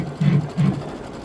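An embroidery machine stitching a satin outline on a bunny appliqué for a bench pillow, giving two short whirring bursts of stitching close by, separated by a brief pause.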